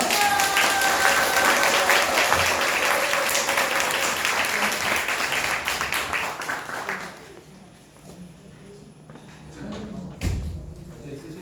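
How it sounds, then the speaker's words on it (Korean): At a forum on the Jeonbuk student human rights ordinance, an audience gives a loud burst of applause that thins out and fades after several seconds, followed by quieter room noise, a thump and a brief voice. "큰 박수 부탁드립니다"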